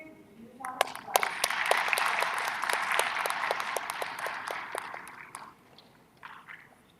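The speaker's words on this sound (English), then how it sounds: "Let's welcome him with a huge round of applause." An audience at a CubeSat launch event gives a round of applause: steady, moderately loud clapping that swells, holds for several seconds and then fades out.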